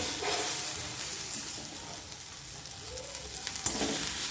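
Onion and tomato frying in oil in a pan, a steady, close sizzle with stirring scrapes running continuously and evenly throughout, with no talking.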